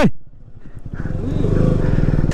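A KTM Duke 125 motorcycle being ridden in to park at a trailhead, its engine idling with a low uneven rumble close by, following a brief voice at the start.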